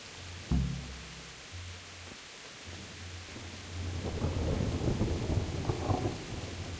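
Thunderstorm in the video game Kingdom Come: Deliverance: a sharp thunder crack near the start, then steady rain that swells into a heavier, rumbling downpour with low music-like drones underneath.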